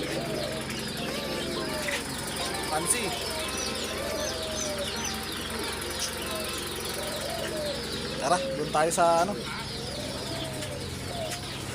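Pigeons coo softly among other caged birds at a pet market in Kuwait, with faint clucking and chirps under the conversation of nearby people.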